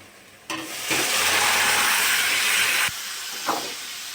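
Vegetables hit hot oil and spices in a pan with a sudden loud hissing sizzle that holds for about two seconds, then drops back to a lower simmer with a brief stir noise.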